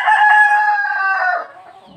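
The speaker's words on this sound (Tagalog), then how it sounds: "Mga manok dito na naman." A rooster crows once, loud and close, in a drawn-out call lasting about a second and a half before it fades out, with no other sounds around it.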